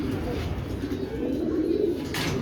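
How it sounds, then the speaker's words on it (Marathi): Pigeons being released into the air, heard as steady low cooing close by over a constant rustling background, with a brief bright flutter near the end. "हवेचे पक्षी सोडलेले"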